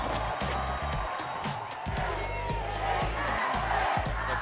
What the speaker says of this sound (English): Crowd counting down the clock.